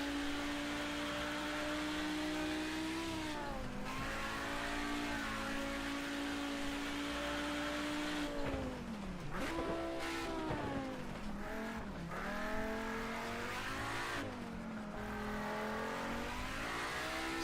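A car on a snowy Eifel road revs its engine hard, the pitch climbing and dropping again and again through several throttle bursts, with brief tire squeal and skidding along the way.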